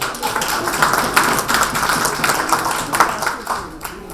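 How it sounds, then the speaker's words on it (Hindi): Audience applause at a women's poetry gathering marking International Women's Day, a steady patter of many hands clapping fairly close, with voices mixed in. "देखिए बात पहुंच जाए तो तालियां तो बनती हैं।"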